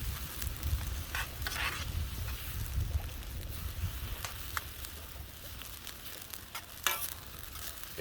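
Bratwurst and cabbage with beer cook over a campfire, giving a steady soft sizzle and bubbling with occasional stirring scrapes and outdoor air noise, low and close throughout.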